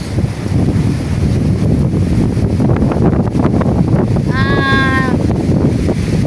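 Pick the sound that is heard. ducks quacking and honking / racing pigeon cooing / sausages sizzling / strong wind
strong wind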